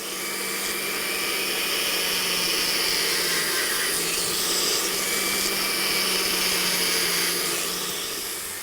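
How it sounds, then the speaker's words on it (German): Rotary grinding heads working a men's ring, a steady continuous high whine with a low hum beneath, held at even loudness throughout with slight shifts in pitch, no talking. "Ein ganzes Arsenal von Schleifköpfen kommt zum Einsatz."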